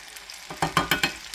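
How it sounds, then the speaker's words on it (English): Minced garlic goes into melted butter in a pan, giving a few close, crackling sizzle bursts and light stirring scrapes in quick succession, with no voices. "Butter's melted. Let's add the 3 teaspoons of minced garlic."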